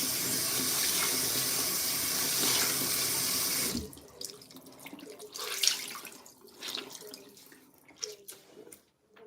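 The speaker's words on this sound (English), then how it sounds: "Wash my face too." Tap water runs steadily into a sink as someone washes their face, a loud continuous rush that cuts off partway, followed by scattered splashes, drips and handling noises.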